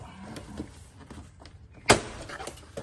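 Hyundai Ioniq 5 interior door panel pried off its retaining clips with a trim tool: one sharp, loud plastic pop near the middle, surrounded by quieter rustling and scraping handling sounds.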